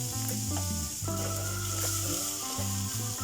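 Garlic sizzles and browns in a pan for chicken afritada, a continuous bright frying hiss heard under loud background music; no voices.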